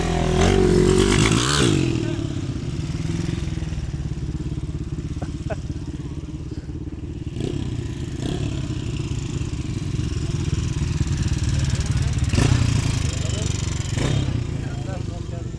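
Motorcycles ride past on a street in Manisa in Turkey's Aegean region, engines droning steadily with a couple of louder passes, while people talk over the traffic noise.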